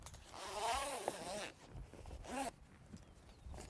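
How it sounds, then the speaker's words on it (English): Zippers on a boat's Bimini top canvas are pulled open in a couple of quick rasping runs, close and fairly loud, separated by quieter handling sounds. "unzip the first rail, second rail unzip"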